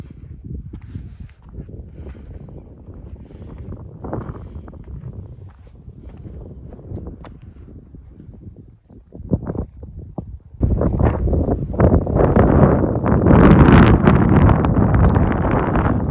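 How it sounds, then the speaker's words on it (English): Wind blows through a canyon near a Montana ghost town, buffeting the microphone as a low rumble that swells into stronger, louder gusts in the latter half; no one speaks. "Wind's blowing through pretty good through this canyon."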